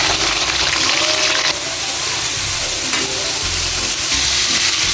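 Loud, steady sizzling of liver frying in a pan, with occasional stirring scrapes and bumps over the hiss.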